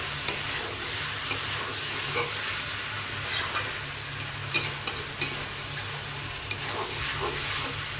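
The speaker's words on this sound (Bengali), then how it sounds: "নুনটা অ্যাড করার পরে এখন কিছুক্ষণ চিকেনটা ভেজে নেবে।" Chicken with added salt frying and sizzling in a pan for a Nepali-style dish with rai saag, a steady close hiss with occasional stirring clinks and scrapes throughout.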